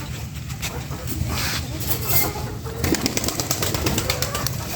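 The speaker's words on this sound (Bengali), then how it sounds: "এই যে লক্ষা কবুতরটা" Fancy Lakkha pigeons kept in a cage coo and stir, with occasional wing flutters, set against steady background noise while someone talks nearby.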